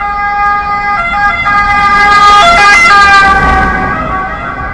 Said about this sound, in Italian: Convenite che tutte le mattine c'è un allarme, una sirena che deve disturbare?